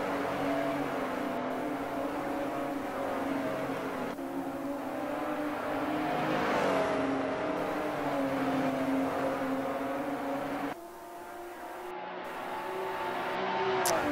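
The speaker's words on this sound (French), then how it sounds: "trois pilotes TX3 qui roulent en formation serrée" Three TX3 race cars running nose to tail in tight formation at Okayama in Assetto Corsa, a steady loud engine drone with rising and falling revs throughout, cars sweeping close by.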